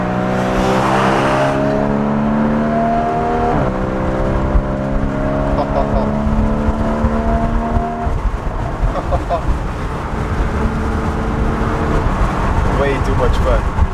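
A Porsche 981 Boxster convertible's engine revs up through several gears accelerating onto a highway, the pitch climbing and dropping at each shift, loud and close with wind rushing past.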